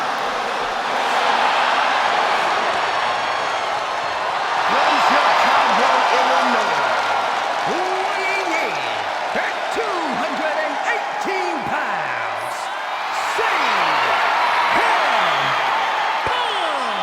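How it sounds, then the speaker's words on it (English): Loud, sustained arena roar from a hometown crowd cheering CM Punk in WWE 2K26, with whoops and chants rising through, while a commentator talks over the ovation. "Just listen to this ovation for the Second City Saint."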